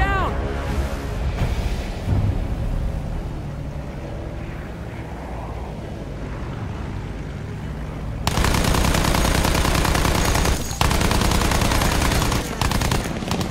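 Machine gun fire aimed at German aircraft in the Battlefield 1 video game: sustained loud automatic bursts over the final five seconds, preceded by engine drone and game noise, with a voice speaking earlier.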